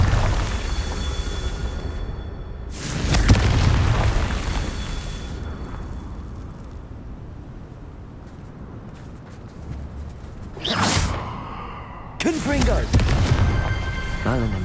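Confringo blasting spells fired in the video game Hogwarts Legacy, heard as several loud, booming explosive bursts spaced apart, with fainter rumbling ambience between them.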